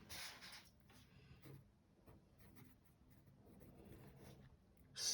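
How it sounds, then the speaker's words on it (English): Pen or pencil scratching on paper as notes are written by hand, a soft, close, intermittent scribble of short strokes with brief pauses, faint and alone without talk. "I'm going to write that down."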